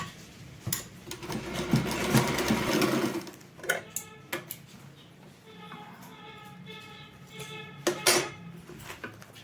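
A sewing machine stitches a zipper onto a kurti in bursts of close, rapid mechanical whirring, with pauses filled by fabric handling and small clicks.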